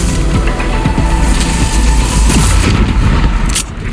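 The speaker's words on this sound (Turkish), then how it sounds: "Spike patlamadan bölgeyi terk etmemiz lazım." The spike bomb in the video game Valorant detonates as a loud, continuous explosive roar with crackling bursts, filling the whole stretch alone without speech.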